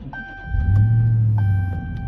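A 2023 Dodge Challenger R/T is started by push button in neutral: a brief starter whine, then the engine catches and settles into a deep, loud, steady idle rumble close by.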